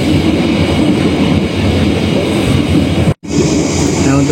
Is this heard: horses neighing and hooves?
no